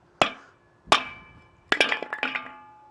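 A 4-pound hammer strikes a firewood splitter outdoors: two sharp single metallic blows, then a quicker cluster of ringing hits, close and loud with clanging decay between strikes.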